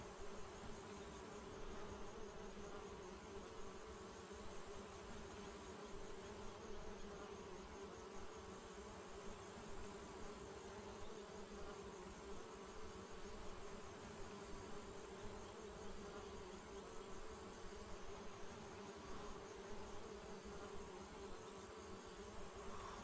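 Steady, dense insect buzzing from a swarm of bees in the adventure game Secret Files: Puritas Cordis, droning continuously and loudly throughout with no voices over it.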